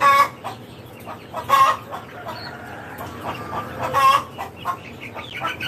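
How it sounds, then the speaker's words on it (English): A half quail, half chicken hybrid bird clucks in a few short, fairly loud bursts close by, with quieter calls and faint rustling in between. "This is a half quail, half chicken hybrid right here."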